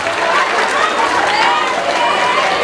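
Steady, loud crowd clapping and cheering fill the whole stretch at an outdoor Mojiganga festival final in Tepalcingo, with overlapping voices blended into the noise.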